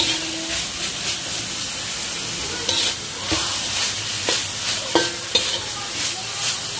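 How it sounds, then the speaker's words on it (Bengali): Thai noodles stir-fried in a black wok, a continuous hiss of frying under sharp scrapes and clanks of the utensil tossing the noodles every second or so, close and loud. "ক্যামেরা একদম কাছে থেকে আমি দেখিয়ে দিচ্ছি কতটা স্মুথলি আমি ফ্রাই করছি"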